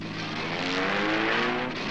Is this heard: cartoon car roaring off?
yes